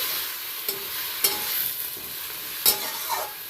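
Lightly salted vegetables are stirred in a frying pan over a steady hiss of sizzling oil, with a few sharp spatula scrapes against the metal, close and alone.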